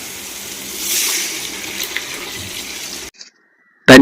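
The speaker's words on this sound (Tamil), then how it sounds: "மசாலாவில் சிக்கன் நல்லா ஊறிட்டோன்னே தண்ணி ஊற்றிக்கலாமா?" Water poured into chicken marinated in biryani masala makes a steady splashing gush that fades and stops after about three seconds, followed by a brief clatter.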